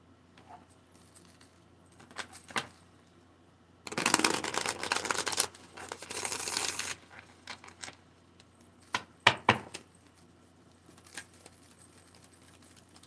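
A tarot deck is shuffled by hand in bursts of crisp, rapid riffling and card slaps, loudest in a long central flurry, with quieter taps and shuffles before and after.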